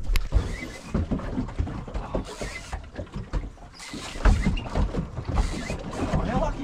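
A fishing boat's outboard motor drones loudly and close on a tropical reef trip in Far North Queensland, easing down briefly midway before surging again over splashing water.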